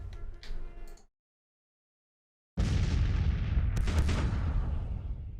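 Cannon artillery fire in the Civil War strategy game Grand Tactician: a brief burst of booming shots, a second of silence, then a sustained loud barrage of rumbling cannon blasts and crackling gunfire.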